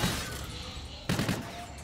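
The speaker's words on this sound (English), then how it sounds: "Are you shooting at random objects?" Gunfire rattles in the futuristic shooter Call of Duty: Infinite Warfare, a short burst of rapid shots near the end after a steady background of game noise, fairly close and loud.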